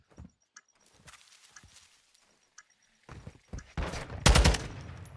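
In the video game Call of Duty Modern Warfare 2, a few soft footsteps and taps lead into a loud, dense burst of rapid gunfire near the end.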